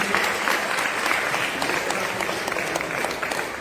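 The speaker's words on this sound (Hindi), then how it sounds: "ताली बजाएं" Steady clapping from a congregation at a morning prayer meeting, a continuous even wash of many hands heard alone for several seconds.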